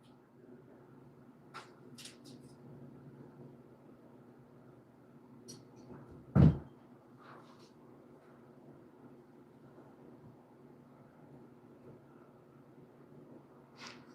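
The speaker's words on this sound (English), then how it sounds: "somebody's banging on the door" A single loud, heavy thump, as of someone banging against a door, stands out indoors over a quiet steady hum, with a few faint clicks before and after.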